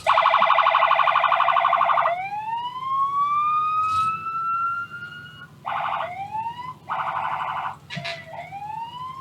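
The Pine Hill Volunteer Fire Department's fire engine sounds off in a Scott County Christmas parade: a loud electronic yelp-style pattern, then rising wails, then more short warbling bursts alternating with wails, all close and alone.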